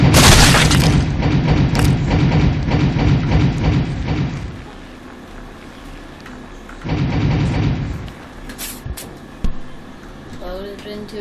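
A cannon fires in the Happy Wheels video game: heavy, loud booms open the stretch, then a quieter gap, another burst of rumbling blasts and a few sharp thuds near the end.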